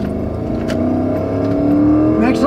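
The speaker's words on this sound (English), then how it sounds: "here goes the big V8 engine" Big V8 engine of a heavy four-wheel drive vehicle accelerating, a loud, close low drone whose pitch climbs steadily as revs rise, with whirring mechanical tones on top.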